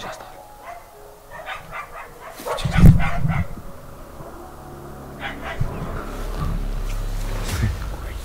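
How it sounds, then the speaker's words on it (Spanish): Several dogs bark in the distance around a house, their scattered, muffled yaps rising and falling over a rustling outdoor background while people talk nearby. "los perros empiezan a ladrar allá"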